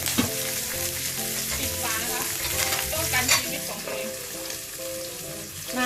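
Pork belly fries in fish sauce without oil in a pot, giving a continuous crackling sizzle with stirring scrapes close up, and no voices.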